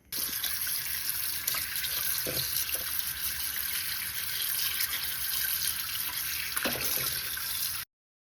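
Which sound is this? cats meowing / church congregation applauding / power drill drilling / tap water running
tap water running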